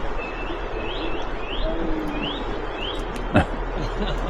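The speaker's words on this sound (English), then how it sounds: "I was facing it towards the bird that was there." A bird calls near Waikoropupu Springs in Takaka, New Zealand: short rising chirps repeat about every half second over a soft background hush, with one brief thump near the end.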